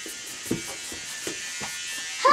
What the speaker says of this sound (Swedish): Vad är det som låter? Pappa rakar sig.